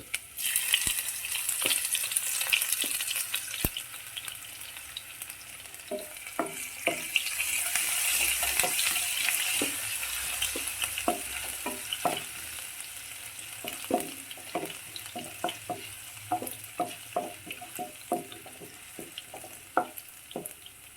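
Chopped ginger frying in oil in a pan while cooking a clam (kakka irachi) fry: a steady hiss of sizzling with repeated sharp clinks and scrapes of a spoon stirring against the pan, close and fairly loud.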